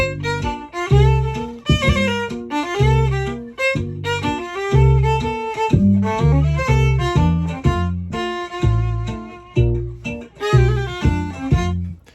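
Jazz tune on piano, bass notes and chords in a steady swinging rhythm, played alone with no talking.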